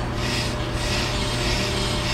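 Brake lathe cutting tool scraping against a spinning brake rotor, a continuous harsh rasping grind over a steady motor hum, close and loud.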